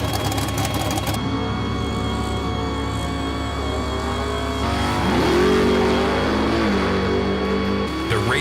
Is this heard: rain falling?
no